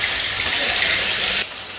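Sea fish frying in hot oil in a pan for a Bengali-style dish gives a loud, steady, close hiss and sizzle that drops to a softer level near the end.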